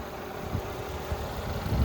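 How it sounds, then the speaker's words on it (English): A 2012 Mercedes-Benz S550 with a 4.7 V8 idles in the open engine bay, a low, steady and fairly quiet hum with no talking. "here's the engine. No ticks, no whines, no leaks."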